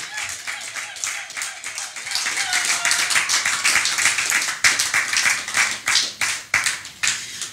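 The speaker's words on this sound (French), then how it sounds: "Acclamons pour ces dieux merveilleux" A church congregation claps along in rhythm, hands beating steadily and growing louder and denser toward the end, with voices faintly mixed in beneath the clapping.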